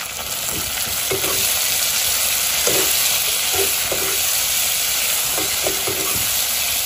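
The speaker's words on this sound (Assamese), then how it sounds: "এতিয়া আমি দিম ইয়াতে বিলাহী সৰু চাইজৰ চাৰিটা বিলাহী দিছোঁ" Pork fries Kerala style in a pan as four small tomatoes go in, a steady loud sizzle with soft repeated stirring scrapes over it, close up and without talk.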